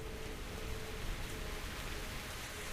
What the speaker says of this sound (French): Toujours pas fini cette pluie d'acide.